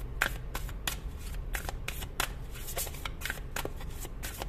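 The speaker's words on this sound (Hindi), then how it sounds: "सारे ही कार्ड्स निकाल लूंगी एक साथ" Tarot cards are shuffled and drawn in a steady run of quick, crisp riffling flicks and slaps, close and moderately loud over a low background hum, with no voices.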